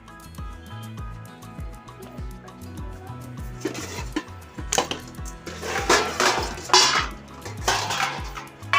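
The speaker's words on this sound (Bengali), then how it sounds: "এরপরে এটাকে একটা প্লেটের মধ্যে রাখি নইলে প্রচণ্ড গরম" A pot of hot milk, just lifted off the stove, is set down on a plate with clattering metal knocks and scrapes, growing busier and louder toward the end.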